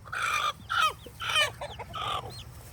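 Chickens and a rooster in a backyard flock cluck during mating, giving a rapid series of five or six loud, close, throaty squawks over roughly three seconds.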